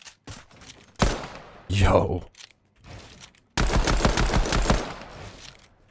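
Legendary pistol fire in Fortnite Chapter 2, loud rapid bursts of shots with one long fast string near the end, while a streamer speaks briefly over the game audio.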